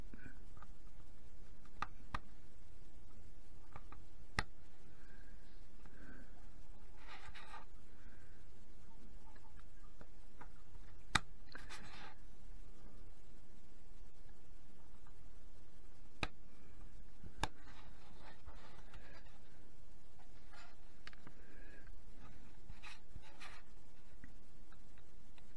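Small plastic parts for a tram model kit are snipped off their sprue frame: scattered sharp clicks and ticks, along with soft scraping and handling noises, sit close and quiet over a low background hum.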